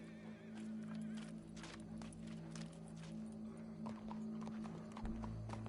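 Horse hooves clip-clop in a steady rhythm in Red Dead Redemption 2, drawing closer over a low ambient hum, with occasional creaks and rattles.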